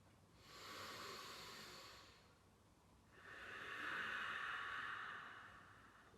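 A yoga practitioner takes slow, deep breaths during a morning flow, with a soft, airy inhale followed by a longer, fuller exhale, close and quiet with no speech.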